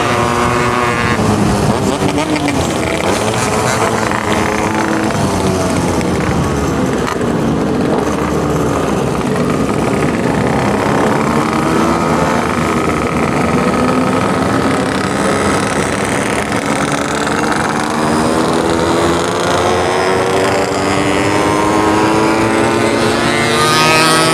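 Several two-stroke motorcycles rev hard at full throttle in a loud, continuous buzzing roar whose pitch climbs and wavers, with wind noise over the microphone.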